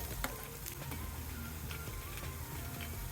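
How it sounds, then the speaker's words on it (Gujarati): Lentil vadas deep frying in hot oil for dahi vada, a steady faint sizzle and bubbling with occasional soft pops, continuous and without voices. "આ પ્રમાણે આપણે બધા વડા તળી લેશું."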